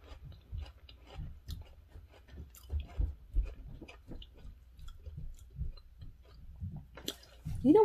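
Someone eats a spoonful of breakfast cereal close to the microphone, giving a steady series of soft wet chews and crunches in an irregular rhythm. A brief louder knock comes at the very end.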